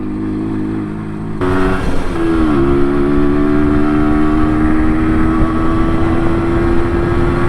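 A small MZ motorbike engine while riding: a steady, buzzing drone shifts up in pitch after a gear change, then holds an even, close, loud hum with wind rush.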